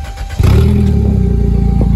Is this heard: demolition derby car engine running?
yes